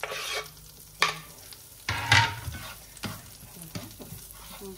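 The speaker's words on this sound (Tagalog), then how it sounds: "Ilagay ko na rin yung onion." Onion frying in a pan for tofu sisig: a soft sizzle broken by several loud scraping stirs and clanks of a utensil against the pan, close by, with no talk.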